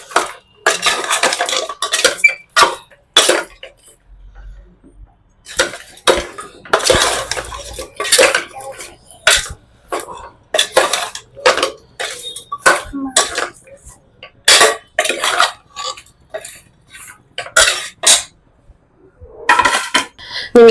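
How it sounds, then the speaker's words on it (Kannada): Salted mutton biryani mixed in a metal pot, with loud, rapid, continuous scraping and clanking of a spoon against the pot in uneven bursts close by. "ಚೆನ್ನಾಗಿ ಮಿಕ್ಸ್ ಕೊಡಿ"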